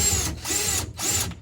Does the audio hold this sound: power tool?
yes